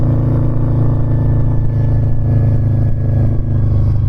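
A 2006 Harley-Davidson V-Rod cruising on the highway gives a steady, loud low engine rumble with constant harmonic drone and wind noise, unbroken for the whole stretch.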